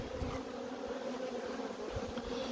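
Honeybees buzz steadily at a hive in an apiary, a dense, continuous drone of many insects close by with no pauses.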